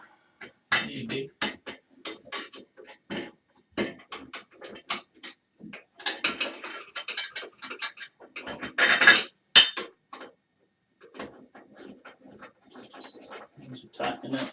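Screws being driven in to mount a grab rail, heard as scattered sharp clicks, knocks and brief mechanical bursts in an irregular rhythm, fairly close and moderately loud, with short quiet gaps between them.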